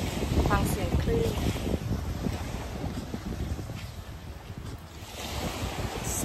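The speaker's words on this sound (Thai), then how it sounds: "ฟังเสียงคลื่น" Ocean waves wash steadily onto the shore at a Koh Samui beach resort, a continuous roar with gusts of wind buffeting the microphone throughout.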